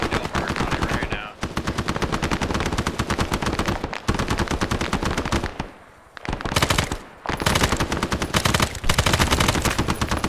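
Sustained machine gun fire in the Vietnam War setting of the video game Arma 3, loud rapid bursts rattling almost continuously with a few brief gaps.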